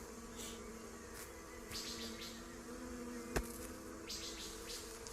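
Steady insect buzzing of bees in the video game Green Hell hums throughout at a moderate level, with a few brief whooshing swells and one sharp click midway.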